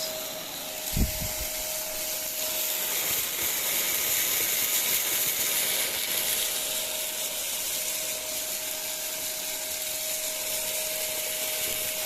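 An Ultenic U12 Vesla cordless stick vacuum cleaner runs steadily at close range, a constant airy whine and hiss holding for the whole stretch after a brief thump at the start.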